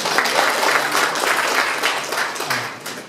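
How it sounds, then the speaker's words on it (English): A room of seminar attendees gives Tony a big round of applause, dense and continuous clapping that stays loud throughout and tapers slightly at the end. "Give Tony a big round of applause"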